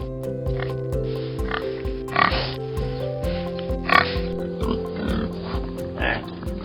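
Black pigs on a farm grunt and oink in short bursts at irregular intervals, moderately close, over a steady background of tonal music.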